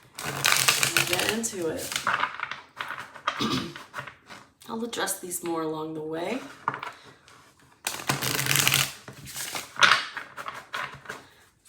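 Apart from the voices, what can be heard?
shuffling tarot cards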